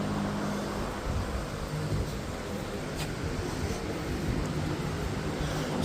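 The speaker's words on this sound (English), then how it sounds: "sorry for the fan noise too, but it's hot out here." A fan runs outdoors in hot weather beside a 1996 Mustang GT Turbo during rear suspension work, a steady broadband whooshing drone that stays constant and fairly close with no speech.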